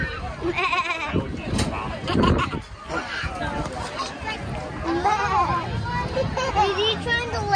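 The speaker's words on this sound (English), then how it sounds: "Oh, it's a goat." A goat bleats among farm animals at an apple orchard, with children and adults chattering nearby throughout.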